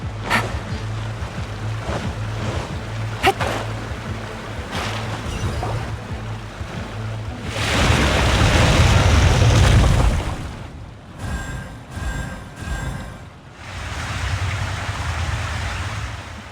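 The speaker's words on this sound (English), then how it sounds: "The water's gone down!" Water drains away in the Genshin Impact video game, a loud rushing surge swelling for a couple of seconds midway over quieter ambient game sounds and a low background tone.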